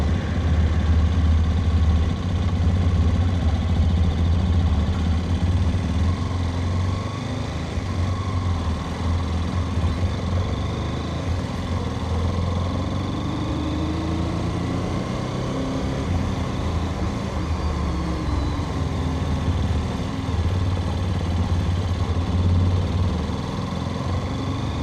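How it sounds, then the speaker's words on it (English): A Hero Xpulse 210 motorcycle's single-cylinder engine runs steadily at idle, a loud, close, continuous low rumble with a slight rise and fall. "Let's start the engine and this is how it's going to sound."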